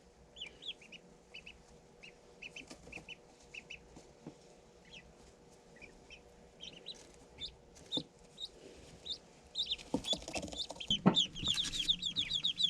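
Ducklings from a hatchery peep in short, high chirps: sparse calls at first, then a busier, louder cluster of peeping near the end, with faint handling noise.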